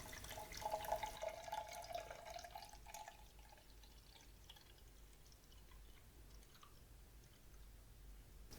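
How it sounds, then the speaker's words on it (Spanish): Tap water runs into a container during a water level sensor test, with a brighter splashing stream over the first few seconds that then settles into a quieter, steady trickle and faint drips. "Volvemos a hacer la prueba llenándolo de agua."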